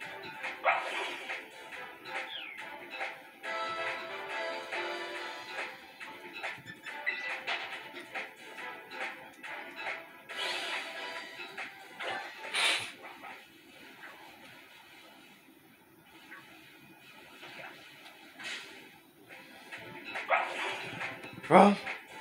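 A dog barks in the Pokemon Scarlet video game, with scattered yips and short barks among game sounds and background music, while a player talks over much of it.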